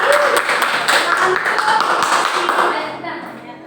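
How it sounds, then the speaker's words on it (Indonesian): Students in a seventh-grade classroom clap for a group of classmates, scattered taps and claps mixed with chatter and voices, fading slightly toward the end. "selamat tepuk tangan untuk kelompok ini"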